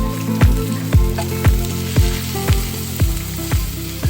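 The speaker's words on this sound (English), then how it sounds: "I start by frying my onions." Onions frying in a pan for Nigerian fried rice, a steady close sizzle broken by about eight evenly spaced clanks of a utensil stirring against the pan.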